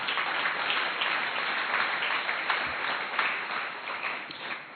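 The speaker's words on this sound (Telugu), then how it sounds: "కొట్టండి చప్పట్లు." A church congregation claps together during a sermon, a dense, steady wash of applause that stays loud and even for the whole stretch with no talk over it.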